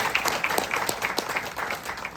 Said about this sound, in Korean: 먼저 우리 회원분들 상호간에 큰 박수로 서로를 환영했으면 좋겠습니다.